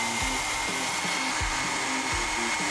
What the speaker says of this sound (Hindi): चलो, हेयर ड्रायर से बर्फ पिघलाते हैं।